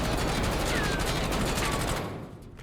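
Sustained automatic gunfire from a weapon in the video game Warzone, a dense continuous burst of rapid shots filling the first two seconds before cutting off and tailing into a short fading echo.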